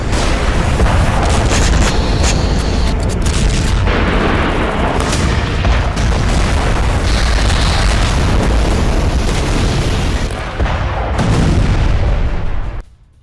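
Explosions from a Russian strike on Ukraine in Dnipro form a loud, dense and continuous roar of rumbling blasts. The barrage stays intense throughout with no clear gaps, then cuts off abruptly at the end.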